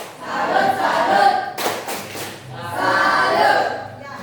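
A class of students claps a rhythmic 'tepuk salut' cheer routine for a classmate in an Indonesian school lesson, with a burst of claps in the middle and chanting voices around it.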